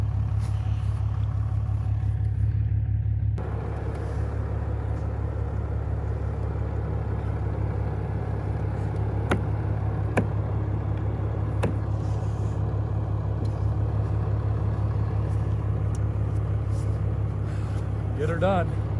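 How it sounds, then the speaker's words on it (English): A truck engine drones steadily at low pitch while plowing snow on a long winter road, a constant close rumble through the whole stretch with faint voices now and then. "Plow mode, so cuts a lot easier. I don't have to work the engine as hard."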